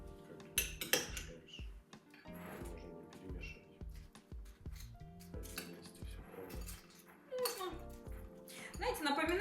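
Salad with mayonnaise being stirred in plates, with irregular clinks and scrapes of cutlery against dishes while people talk and move around a table.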